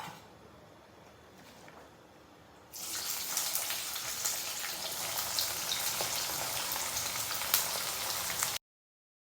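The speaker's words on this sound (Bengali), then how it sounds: "ওই তেলে একটু গরম করে এর মধ্যে দেবো পেঁয়াজ কুচি, লঙ্কা কুচি, টমেটো কুচি আর ধনে পাতা কুচনো" Chopped onion, chili, tomato and coriander hit hot oil and butter in a pan for an egg recipe, bursting into a loud steady sizzle after a quieter stretch, then cutting off abruptly.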